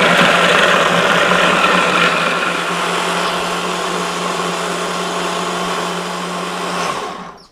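A food processor chops onion: a loud, steady whirring motor runs without a break, eases slightly in pitch, then cuts off abruptly just before the end.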